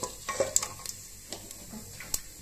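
Bay leaves and cumin seeds fry in hot oil in a pan for an Assamese fish pulao, giving a soft, steady sizzle broken by scattered clicks and scrapes of a stirring utensil, quiet and close, with no talking.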